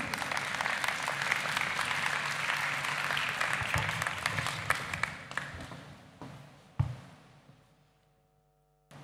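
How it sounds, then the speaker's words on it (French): Audience applause at a town cultural event in Pau, a moderate wash of clapping that thins out and fades, with a few last isolated claps before near silence. "Vous pouvez l'applaudir."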